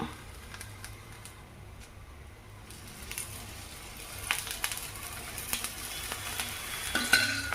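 Ragi roti fries in oil on a hot pan, giving a soft continuous sizzle that grows busier toward the end, with light spatula scrapes and a couple of brief metallic clinks.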